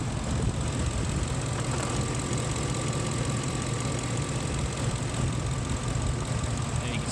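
A 2006 Ford F-150 pickup idles with a fuel pressure test kit hooked to its fuel system, a steady close engine drone with a faint high whine running throughout, no talk.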